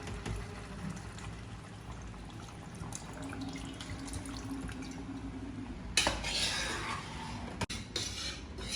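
Water pours and swirls in a cooking pot of Chettinad chicken curry with faint clinks, a steady gurgling wash that grows louder and more splashy toward the end.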